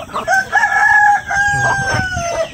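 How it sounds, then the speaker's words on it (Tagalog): A rooster crows loudly and close among a backyard flock of free-roaming and tethered chickens, with a long drawn-out call and softer clucking beneath. "Yan yung mga manok natin dito ngayon."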